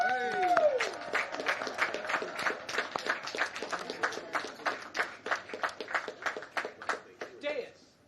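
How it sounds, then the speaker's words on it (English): A West Point class of 2020 graduation crowd bursts into applause, dense clapping that swells and then thins into scattered claps, with a voice calling out at the start. "round of applause"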